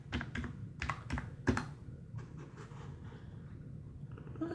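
Keys clatter on a computer keyboard at a cozy crafting desk, bursts of quick sharp taps in short clusters, close and fairly quiet, with no talking.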